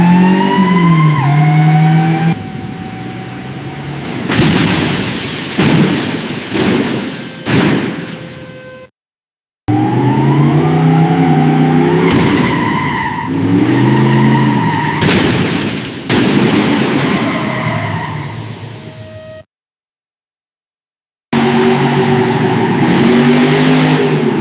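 Loud cars rev and accelerate in repeated bursts, each run ending in heavy booming impacts against a rotating mechanical hammer, with abrupt silent breaks between the runs.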